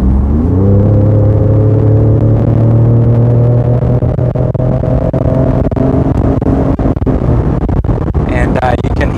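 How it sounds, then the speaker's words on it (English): A 2020 Leadfoot Ford Raptor truck accelerates hard, heard from inside the cab as a deep, rising exhaust drone that climbs in pitch and then holds, loud and continuous, with a voice talking over it near the end. "And you can hear that exhaust note leaking through the speakers of the truck."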